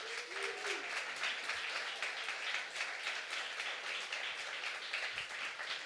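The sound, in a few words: round of applause for Carly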